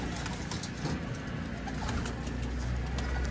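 A pair of crested pigeons kept for sale coo close by in soft, repeated throaty calls over a steady background hum.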